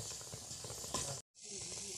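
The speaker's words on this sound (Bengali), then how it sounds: "শুকনো লঙ্কাটা প্রথমে ভেজে নিচ্ছি" Dried chillies fry in mustard oil in a frying pan, giving a close, steady sizzling hiss that cuts out briefly, then resumes.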